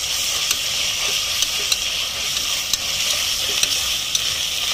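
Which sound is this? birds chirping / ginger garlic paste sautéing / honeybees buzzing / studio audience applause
ginger garlic paste sautéing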